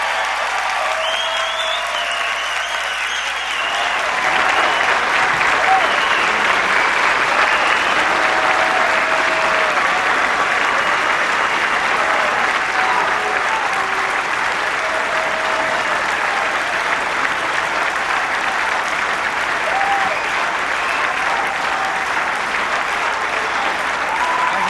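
A large audience at a CPAC political speech breaks into loud, sustained applause and cheering that starts a few seconds in and continues steadily, filling the hall.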